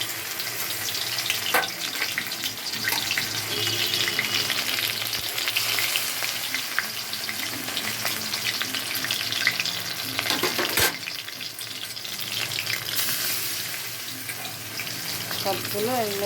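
Chickpea dal paste mixed with rice flour frying in oil in a wok over a low flame, a steady close sizzle with stirring scrapes throughout and a brief clink near the middle.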